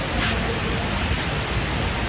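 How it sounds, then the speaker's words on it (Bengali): Heavy rain pours outside at a botanical garden, a dense, steady hiss with no break. "বাইরে অনেক বৃষ্টি, তো বাইরে বৃষ্টি হতেছে।"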